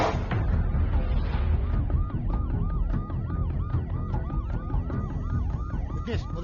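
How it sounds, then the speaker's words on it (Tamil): An ambulance siren wails at a road accident scene at a traffic signal, its rapid rising and falling sweeps repeating steadily over a rumbling, busy background. "விக்னேஷ், முதல்ல ஆம்புலன்ஸ் சீக்கிரமா ஹாஸ்பிட்டல் போக சொல்லு."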